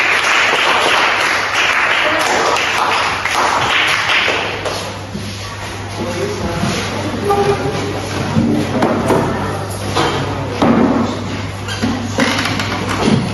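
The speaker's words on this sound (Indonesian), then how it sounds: "Ayo, beri tepuk tangan kepada kelompok 1" Students in a classroom clap for a group that has just presented, a scattered burst of hand claps and taps that thins out into shuffling and murmuring.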